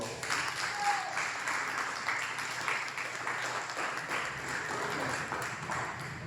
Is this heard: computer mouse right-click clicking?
no